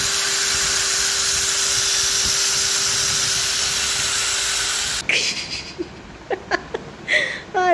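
A hole being made in a leather belt: a steady, loud whirring hiss runs for about five seconds, then stops and gives way to a few short, sharp clicks and scrapes close by.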